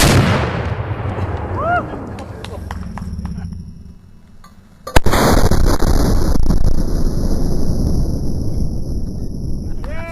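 A 7 cm Spanish mountain rifle cannon fires a single round at about the five-second mark, a loud sharp blast followed by rumbling echo and wind across the open range, with quiet outdoor sounds and faint bird calls before it.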